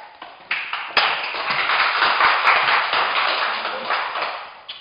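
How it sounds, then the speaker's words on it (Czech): Studio audience applause greeting a guest on a Czech talk show about summer camps, a dense, steady wash of many hands clapping that swells and holds for several seconds, loud and close, with a few sharper knocks at the start. "Prosím, potlesk."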